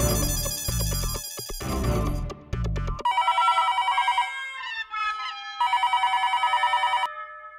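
A telephone rings in a home scene of a Hindi TV sitcom. A loud burst of music comes first, then repeated close electronic ring tones in bursts. No one speaks.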